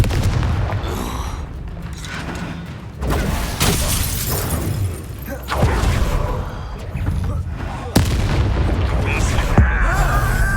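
The Descender spell in Hogwarts Legacy slams an enemy to the ground in a string of heavy booming impacts and crashes, loud and close, each followed by a short pause in combat.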